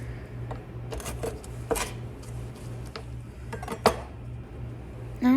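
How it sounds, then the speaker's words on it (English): A chef's knife cuts through raw chicken wing tips on a board, giving several sharp taps and clacks over steady background hum, close by, ending with a louder knock. "Now I'm going to cut the wing tips off with my chef's knife."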